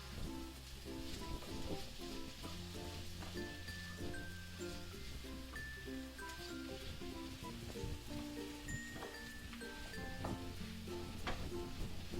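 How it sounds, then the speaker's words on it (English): King prawn noodles are stir-fried in a pan, producing a constant quiet sizzle with scattered crackles and light stirring sounds, while soft music plays underneath throughout. "And you just have to try and stir it up and mix it."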